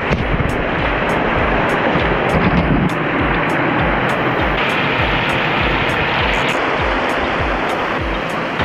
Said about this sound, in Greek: Εδώ έχει ένα μικρό καταρακτάκο